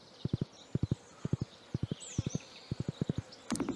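A horse's hooves clip-clop in Stardew Valley, crisp triple-beat groups of hoof taps repeating at a steady trot, with a faint chime near the end.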